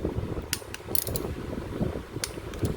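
Ratchet clicking in bursts while torquing engine bolts to 106 inch-pounds on a Honda CBR600F4i motorcycle engine during a teardown, with close, sharp metallic ratcheting over a steady mechanical background.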